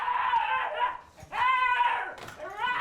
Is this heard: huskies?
yes